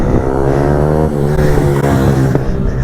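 An older-model KTM Duke 125 motorcycle engine running loud and close, a steady buzzing single-cylinder drone with slight rises and dips in pitch and no talking.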